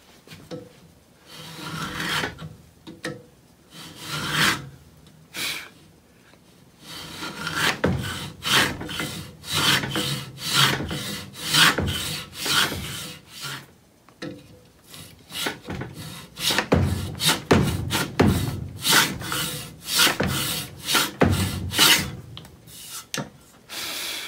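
Hand saw cutting halfway through a walnut board for a spice rack door, heard as close, rasping back-and-forth strokes in uneven bursts with short pauses, growing steadier and denser toward the end.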